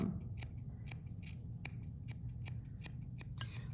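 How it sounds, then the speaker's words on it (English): Scissors snipping yarn to trim a pom pom, a quick irregular series of a dozen or so crisp close cuts over a low background hum. "notice how I'm taking little snips"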